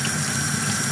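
Water from a tap pours steadily over a Motorola Tundra cell phone, a close, constant hissing splash with no break and no talking.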